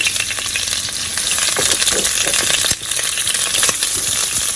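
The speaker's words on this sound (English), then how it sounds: "it's warm now, and we will add our onion" Onion sizzling loudly in a hot pan for tostadas de tinga, a steady close crackling fry with a few scraping stirs and no talk.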